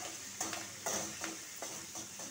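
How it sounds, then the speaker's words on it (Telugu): Green chilies and curry leaves fry in a pan with a steady sizzle, while a spatula stirs in a few soft scraping strokes, close and fairly loud, with no voices. "ఒక 6 పచ్చిమిర్చిలు వేసాను, కొంచెం కరివేపాకు. ఇది కొంచెం వేగనిస్తాను."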